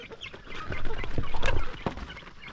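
Chickens on a small backyard farm cluck and murmur up close, several birds overlapping in a busy, continuous chatter that peaks in the middle of the clip.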